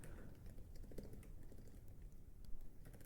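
Fingers tap on a computer keyboard in a quiet room, a faint, irregular patter of key clicks over a low background hum, with no voices.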